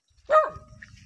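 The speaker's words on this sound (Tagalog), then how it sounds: "May aso dun." A single sharp dog bark close by outdoors near a rice field path on the way to a waterfall, one brief loud yap followed by a faint tail of background noise.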